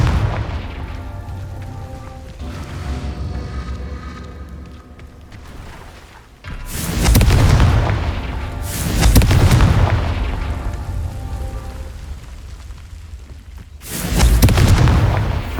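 In the Hogwarts Legacy video game, Confringo spells set off deep, booming explosions. Several heavy blasts land a few seconds apart, each rumbling loudly before fading, with quieter crackling between them.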